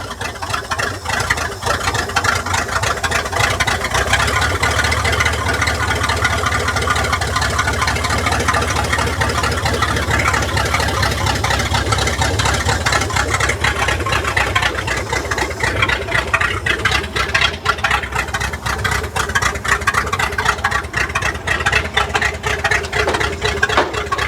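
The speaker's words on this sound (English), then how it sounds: "It's running off the carburetor." Ford F600 truck engine idling steadily on its carburetor, a loud, continuous mid-low rumble with an even throb that runs throughout without pause.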